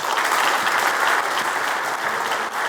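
Audience applause after a governor's speech at a workshop for agricultural cooperative heads: dense, loud, steady clapping from a large crowd, sustained throughout without voices.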